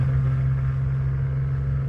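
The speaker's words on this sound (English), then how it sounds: "This is first gear engine braking for you." A 2002 Ford Mustang with a 3.8L V6 and five-speed manual engine-brakes in first gear, giving a steady, low droning hum with an even tone heard from inside the car, no talking.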